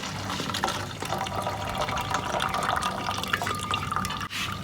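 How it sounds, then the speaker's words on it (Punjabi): Whey drips and trickles steadily as it drains from curdled milk for paneer, with small splashes and a continuous wet pouring texture close by. "ਸਾਰਾ ਪਾਣੀ ਅਲੱਗ ਕਰ ਲਾਂਗੇ"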